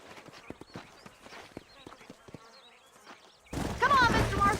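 Horse hooves clip-clop in the Red Dead Redemption game outside Armadillo, a steady patter of hoofbeats under game dialogue and ambience, then a louder noisy burst near the end.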